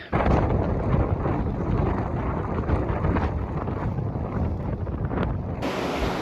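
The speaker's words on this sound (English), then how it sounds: "it is raining like crazy. Big wind, big rain." Loud, steady roar of wind and heavy rain during a storm at Tikehau, French Polynesia, a dense continuous wash of noise with occasional gusts.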